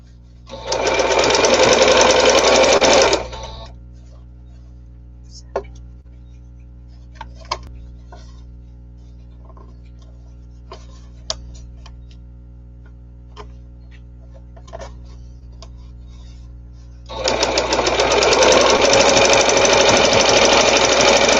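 A sewing machine stitching fabric masks runs in two loud, fast whirring bursts at close range, separated by a quiet stretch of faint clicks and handling noises.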